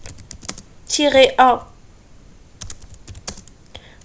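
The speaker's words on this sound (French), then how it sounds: "De la même manière, on tape iptable-a" Keys on a computer keyboard clack in quick irregular bursts as a Linux iptables command is typed, close and crisp, with a brief spoken phrase in the middle.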